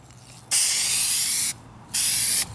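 Two hissing bursts from a Duplicolor spray can laying a light tack coat on a 2004 Kia Spectra rear bumper, the first about a second long and the second shorter, both loud and close, with a quiet pause between.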